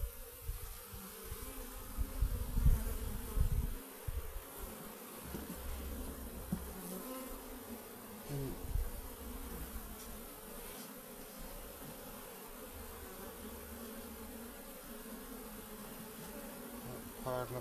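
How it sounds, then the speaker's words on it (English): A dense, steady hum of honeybees swarming around an opened backyard beehive, close and continuous throughout, with occasional soft handling noises from frames and a hive tool. "Pile of bees on here."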